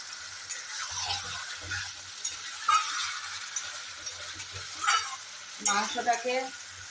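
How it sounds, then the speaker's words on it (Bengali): Chicken and potatoes sautéing together in a pan for a Bengali chicken curry, a close sizzle with scraping stirs and a few clattering utensil knocks toward the end. "এবার আলু দিয়ে আমি 1-2 মিনিট মতো কষাবো"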